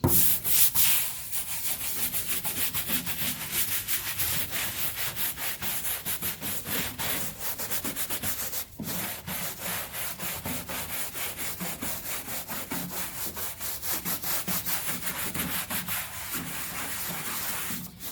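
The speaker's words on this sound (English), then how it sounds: "All right, let's scrub it." A car floor mat is scrubbed with mat and liner cleaner, close rhythmic brushing strokes rasping back and forth in a steady, continuous pattern with no talking.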